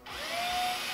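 A power drill whirs steadily at high speed while installing an adjustable keyboard tray mount, one continuous close burst with a rising onset and no talk.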